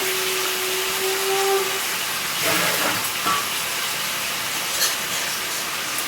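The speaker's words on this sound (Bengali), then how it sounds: "আমি 3 রকমের সবজি একসঙ্গে তুলে দিচ্ছি। দিয়ে ভালো করে নেড়ে নেবো।" Three kinds of vegetables hit a hot pan with a loud hiss, then sizzle in bursts as they are stirred, over a constant background roar.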